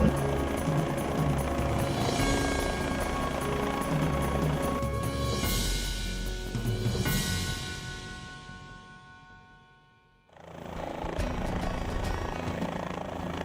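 A medical air ambulance helicopter at a landing zone: loud rotor and engine roar fills the air, swells, fades almost to silence, then returns strongly.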